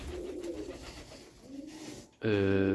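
Homing pigeons cooing softly at the loft, low murmuring coos under faint background noise, then a loud, sudden harmonic sound that cuts in near the end.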